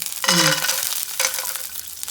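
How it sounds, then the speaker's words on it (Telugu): Cashews and raisins frying in ghee for makhana kheer, a short burst of loud sizzling that eases and then flares again, close up with no talking. "ఇందులో కొంచెం నెయ్యి నెయ్యి వేసుకొని ఫస్ట్ కొంచెం మనం కాజు కిస్మిస్ వేయించుకున్నాం"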